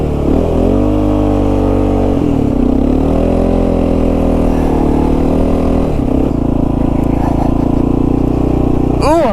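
Kawasaki KLR 650 motorcycle engine running on a frozen lake at night, loud and close, rising and falling in pitch through several revs with a steady droning exhaust throughout.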